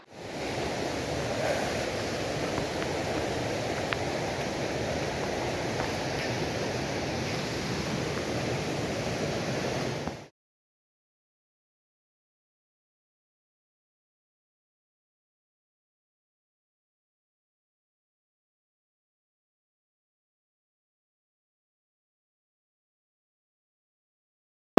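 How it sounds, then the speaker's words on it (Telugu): A hidden waterfall roars as a steady, dense rush of falling water for about ten seconds, loud and continuous with no voices, then cuts off to silence. "ఇదే మనం రావాల్సిన వాటర్ ఫాల్"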